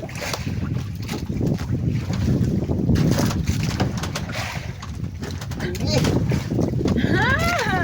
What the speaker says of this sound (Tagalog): Bakihip ng hangin.